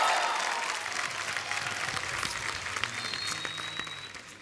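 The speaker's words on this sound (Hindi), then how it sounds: "जोरदार तालियां सिद्धांत और शर्वरी के लिए।" An audience applauds and cheers at a live Hindi television show as two guests are welcomed onstage, a dense wash of clapping that starts full and slowly thins over a few seconds.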